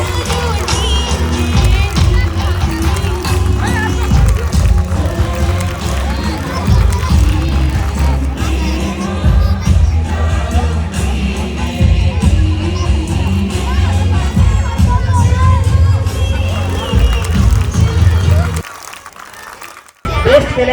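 A crowd applauds and cheers for a second-place best khelaiya prize winner at a Navratri garba event in Nadiad, a loud, dense, continuous roar of clapping and voices mixed with music before cutting out near the end.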